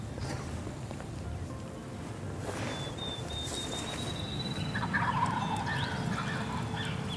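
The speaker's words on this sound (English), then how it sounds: "So we are hoping he's gobbling his head off." A wild turkey gobbles faintly in the distance during a spring hunt, heard as a brief rattling burst over steady wind and outdoor ambience.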